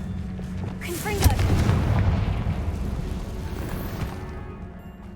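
A Confringo blasting spell goes off in Hogwarts Legacy, a heavy booming explosion that rumbles and slowly fades over several seconds, close and loud, with a voice briefly heard at the start.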